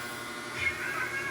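A pet cat meows at feeding time as food is set out, a brief mid-level call rising over quiet household background.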